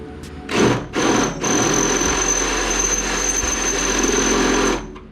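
A power drill with a 3/8 inch bit bores into the cowl of a 1964 Ford Falcon, with two short bursts, then a steady high whine that holds for about four seconds before stopping, close and loud.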